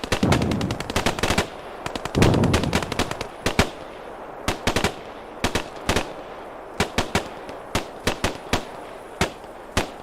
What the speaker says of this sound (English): I can't hear any firing. There we go.